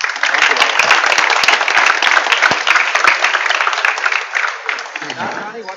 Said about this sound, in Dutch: graag nog een applaus voor Karel